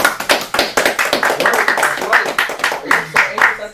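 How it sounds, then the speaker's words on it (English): An audience claps in a quick, irregular patter of sharp hand strikes that runs steadily throughout, loud and close, mixed with some voices. "That was a nice clap."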